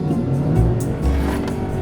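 A truck engine rumbles steadily on sand dunes with low growling revs rising and falling, loud and close, with brief hissy bursts of spinning tires.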